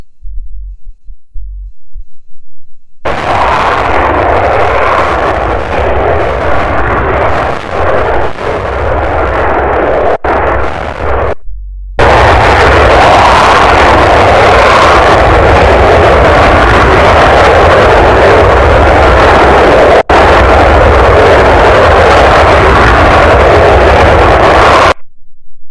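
An F-35 fighter jet roaring through a drifting, tail-sliding turn and powerful climb-out at the Cosford Airshow, a loud sustained broadband engine blast with deep rumble that cuts out briefly mid-pass before returning even stronger.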